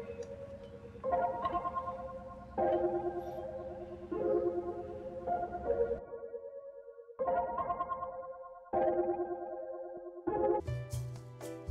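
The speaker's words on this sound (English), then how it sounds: "the half speed preset, and some Valhalla frequency echo or eco" Piano melody processed with a half-speed preset and Valhalla Freq Echo, heard as repeated chords with a warped, echoing, chorus-like tone, stopping and restarting in phrases, with no talk.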